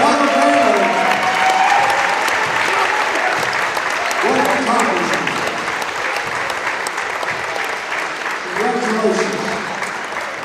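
Steady, full crowd applause fills a high school basketball gym honoring the McConnell family, sustained throughout while an announcer's amplified voice speaks over it.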